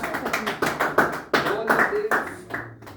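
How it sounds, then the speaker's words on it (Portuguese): Church congregation clapping for Jesus in rhythmic, even beats at a moderate pace, close and fairly loud, with voices mixed in among the claps. "Bate palmas para Jesus."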